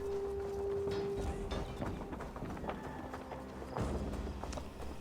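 Horse hooves clip-clop in a rapid galloping rhythm in Assassin's Creed Valhalla, moderately loud and steady over game ambience with a brief tonal hum early on; no speech.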